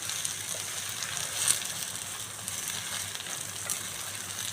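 Sliced ridge gourd and green chilies sizzle in a pan as they are stirred, a soft continuous crackling hiss at moderate level with faint rises in intensity.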